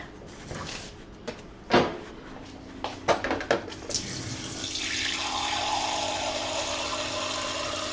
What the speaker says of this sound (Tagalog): lalagyan ko siya ng konting tubig.